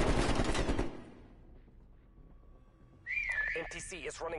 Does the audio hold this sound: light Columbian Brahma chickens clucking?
no